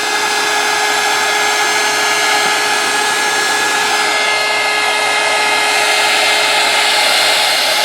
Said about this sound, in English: So we'll turn on the heat gun and power.